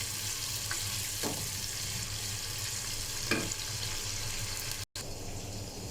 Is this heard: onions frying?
yes